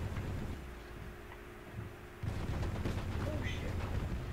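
Team Fortress 2 gameplay fills the clip with dense, continuous gunfire and explosive shots, loud and steady, with a voice partly audible underneath.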